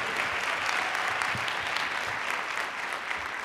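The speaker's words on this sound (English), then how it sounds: "Let's give our young people a great round of applause." An audience at a school district evening event claps steadily in a dense, even round of applause for young people, moderately distant and without voices on top.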